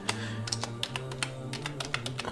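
Someone types a passport number on a computer keyboard: a quick, uneven run of close, crisp key clicks over a steady low hum, with no talking.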